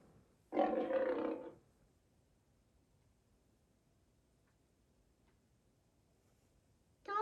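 A lion gives one loud, rough roar lasting about a second, followed by near silence, with the start of another animal call cutting in at the very end.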